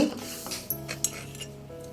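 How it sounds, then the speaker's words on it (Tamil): Garlic and shallot kulambu being transferred from a cooking pot into another bowl, with soft metallic clinks and scrapes of a ladle against the vessels, quiet and close, with no talking. "இப்போ நான் வேறு பவுலில் ஊற்றி காமிக்கிறேன் உங்களுக்கு"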